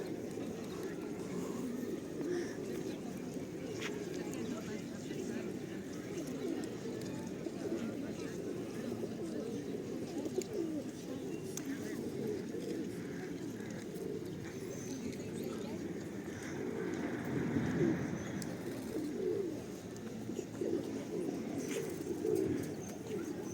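Low, soft pigeon cooing rolls on continuously, with faint background murmur and distant outdoor ambience.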